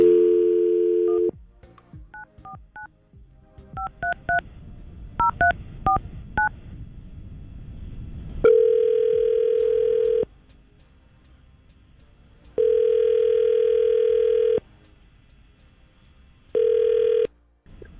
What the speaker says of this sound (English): We're going to try to call Connor right now and see if we can get him on the phone ourselves